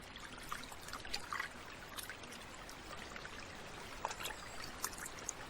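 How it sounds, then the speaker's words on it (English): A small unfrozen river in the snowy Sikhote-Alin forest flows steadily, with soft continuous trickling, dribbling and gurgling water close by and occasional brighter splashes, without any voices. "In the Sikhote-Alin forest, one little river runs unfrozen and undisturbed."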